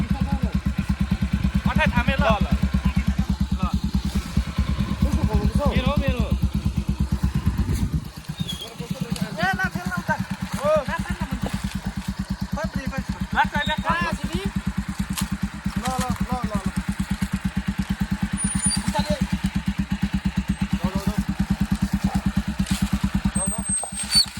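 Motorcycles on an extreme off-road ride, a low engine drone and idling rumble running underneath steady conversation, easing briefly midway before picking back up.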